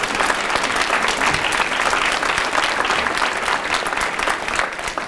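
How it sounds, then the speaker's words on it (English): A crowd gives a sustained round of applause at a hunger-relief recognition ceremony, the clapping loud, dense and continuous from start to finish. "If you all could please enjoy a round of applause and stand if you want again"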